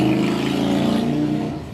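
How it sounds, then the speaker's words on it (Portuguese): A motorcycle passes by, its engine drone holding steady at close range before beginning to fade toward the end. "Pronto, passou a moto."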